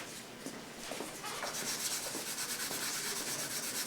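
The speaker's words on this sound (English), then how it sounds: "Little strip of sandpaper." A handmade pendant being sanded with a small strip of 240-grit sandpaper, a faint, close, steady scratchy rubbing that grows slightly more even and continuous as the strokes go on.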